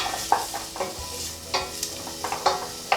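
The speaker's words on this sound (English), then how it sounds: "it's just a case of sauteing those for no more than 5 minutes, just to soften them and just get them cooking" Vegetables, including mushrooms, sauté in a saucepan, with a low sizzle under regular clattering strokes as a utensil pushes them around the pan, close by and without speech.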